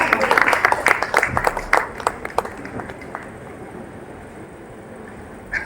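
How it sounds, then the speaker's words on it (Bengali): An audience at a dance reality show stage claps for a performer, with dense applause for a few seconds that thins and fades to quiet room noise. "জোরে হাততালি।"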